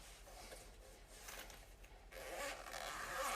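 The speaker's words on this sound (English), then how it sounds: "So we're going to unzip it here." A zipper slides open on an Apogee HypeMiC microphone carrying case in a quiet room, a soft, close rasping pull that grows a little louder toward the end.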